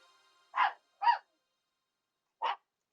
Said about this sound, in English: Both dogs are going crazy.